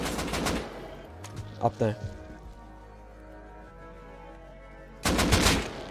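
Bursts of gunfire in the survival game Rust, a loud rapid volley at the start and another near the end, with a few sharper single shots between, while players talk over the action.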